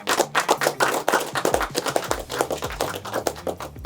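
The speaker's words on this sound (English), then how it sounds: "Give yourselves a round of applause." A small group of band musicians clapping together in a short round of applause, dense overlapping hand claps that are close and lively, with some faint low tones underneath.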